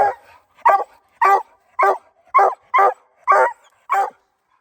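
A hunting dog on a night coon hunt gives eight loud, close, evenly spaced barks with whiny, yelping edges, separated by short silences, with no other voices.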